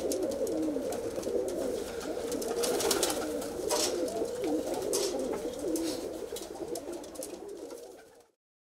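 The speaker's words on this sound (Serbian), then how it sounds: "Ko se razume u golubove vidi da su prave letačice." Racing pigeons coo in a steady, continuous chorus of low warbling calls, close and fairly loud throughout, with no one speaking, before the sound cuts off abruptly near the end.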